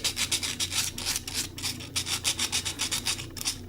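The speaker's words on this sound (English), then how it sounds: "just run the sandpaper over" Sandpaper rubbed back and forth over anodized aluminum, a steady run of close, dry scratchy strokes in a quick, even rhythm with no talking.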